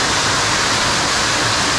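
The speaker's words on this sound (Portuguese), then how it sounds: "Uma quedinha d'água." A small waterfall on a tributary of the Rio Cari pours reddish water in a continuous loud, broadband rush, close and steady with no voices.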